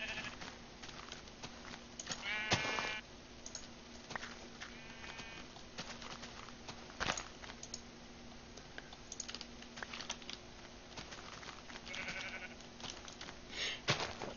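Minecraft sheep give a few short, clear bleats, at about a third and near the end, over a steady patter of computer keyboard typing and clicking, with no speech.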